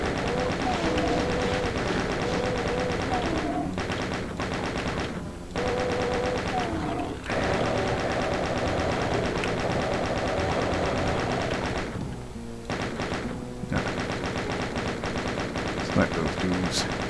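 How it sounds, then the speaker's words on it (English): A chain gun in Doom 2 fires in long, rapid, loud bursts that run almost continuously, broken by a few brief pauses, with game sounds mixed in. "Let's give the chain gun a little love."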